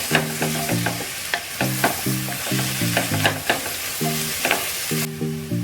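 Onions with a pinch of salt frying in a pan, a steady hissing sizzle with regular scraping stirs, under a repeating melodic tune of background music and no talking.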